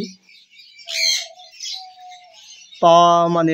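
Sun conure and blue yellow sided conure parrots call, with a few thin chirps early on, then a loud, harsh, ringing screech that holds steady for the final second.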